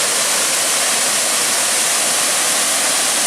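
Devil's Kettle waterfall on the Superior Hiking Trail roars in a steady, dense wash of falling water, loud and unbroken with no voices.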